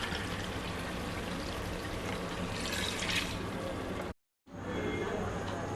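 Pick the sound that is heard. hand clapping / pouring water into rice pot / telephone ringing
pouring water into rice pot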